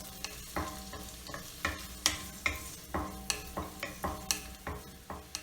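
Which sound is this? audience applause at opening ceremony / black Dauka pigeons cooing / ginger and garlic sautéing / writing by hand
ginger and garlic sautéing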